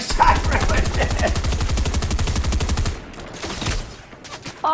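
Rapid automatic gunfire in Fortnite, a loud rattling burst of evenly spaced shots for about three seconds, then a pause followed by scattered sharper reports.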